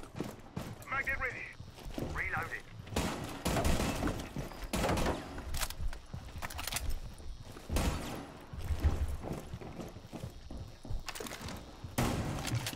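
Gunfire in Rainbow Six Siege, a tactical shooter match, with dense bursts of shots and thuds scattered throughout, heard amid continuous game noise and occasional voices.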